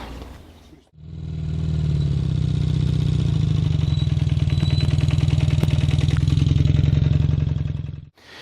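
A 1976 Kawasaki KZ400 motorcycle engine idles steadily and close by, a loud, even, throbbing rumble with a faint mechanical clatter, starting and stopping abruptly.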